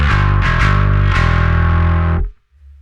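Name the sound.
Darkglass B3K turbo high-gain distortion pedal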